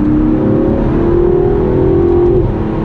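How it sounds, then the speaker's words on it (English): An Aston Martin DB11 engine revving hard under acceleration, a loud sustained droning note from inside the car that climbs steadily before dropping off sharply as it shifts into the next gear. "you can still feel the gear shift shunt into the next gear"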